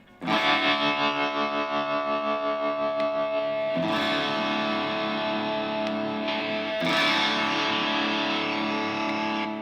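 Electric guitar with a built-in speaker playing heavily distorted sustained chords, three strummed hits ringing out loud and thick with a buzzing, saturated overdrive tone and no talking.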